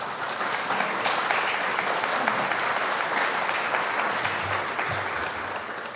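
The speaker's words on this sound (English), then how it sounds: "We have to give one more round of applause to Scott" An audience at an event at Rosecliff in Newport bursts into loud, sustained applause, dense clapping from many hands filling the whole stretch without pause.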